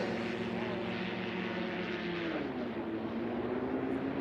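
Cessna 175 taildragger in a STOL drag race, its propeller roaring in reverse pitch with a steady droning engine note that slides lower partway through, fairly distant and continuous.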